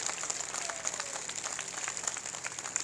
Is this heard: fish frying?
no